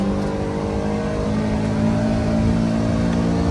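A Kawasaki Ridge side-by-side engine revs hard at high RPM, a loud, steady, sustained drone with a slight rise in intensity partway through and no voices.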